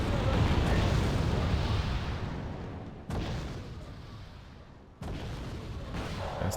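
Heavy firing in the Cold War strategy game Wargame: Red Dragon sounds like rumbling booms and distant gunfire. It comes as three sustained waves, each starting loud and slowly fading before the next abrupt onset.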